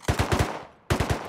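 Automatic rifle fire in the survival game Rust, two quick loud bursts of rapid shots separated by a brief pause, with no talking.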